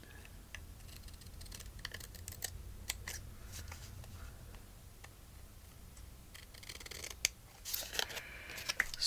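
Scissors snipping and trimming paper at a watercolor crafting table, a series of quiet close cuts and crisp clicks with light rustling that grows busier near the end.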